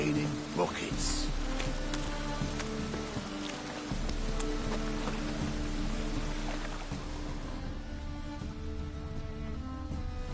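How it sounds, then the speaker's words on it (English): Steady, dense video game rain pours down throughout, a constant wash of drops with a low rumbling undertone and no pauses. "It's raining buckets."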